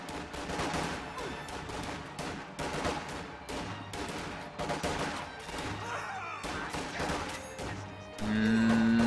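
Rifle gunfire crackles through an infantry engagement in a strategy game, with repeated bursts of shots in a dense, busy stream over background music that steadies toward the end.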